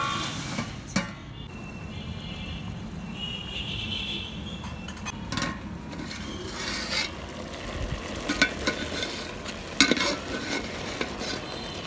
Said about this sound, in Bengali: ডালটা আমি ভালো করে নেড়ে দিব।